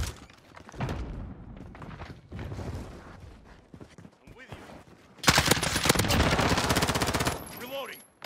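Rapid gunfire from a multiplayer first-person shooter with capture points, loud bursts of automatic fire filling the second half after a quieter stretch of muffled game sounds and brief talk.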